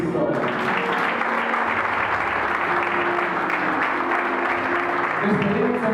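Congregation applause during a missionary church service, a dense, sustained roar of clapping from a large crowd with voices mixed underneath, loud and even throughout.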